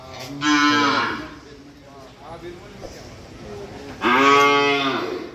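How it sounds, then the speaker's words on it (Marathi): Cattle moo loudly twice in a cowshed at the Gagangiri Maharaj Math, Khopoli, a long low call near the start and another near the end, with faint voices and farmyard noise in between. "बारकी बारकी वासरं आहेत आणि मोठ्या गाई तिकडे आहेत आतमध्ये"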